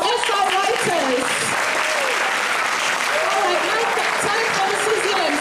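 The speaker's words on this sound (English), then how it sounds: "Please, can we give a round of applause to our SI writers?" An audience at a school drama performance applauds the sixth-grade writers with a full, sustained burst of clapping, while voices talk over the applause throughout.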